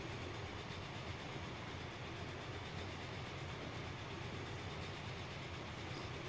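Steam trains racing in the video game Transport Fever, including a Super Hudson and a Norfolk and Western locomotive, a dense continuous rumble of rolling wheels and engines at steady volume, with no talk.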